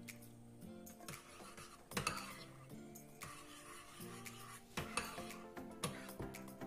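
Milk being stirred into yogurt in a small ramekin while baking jam muffins, with light clinks and scrapes of a spoon against the dish repeating through the stretch, moderately close, with no talking.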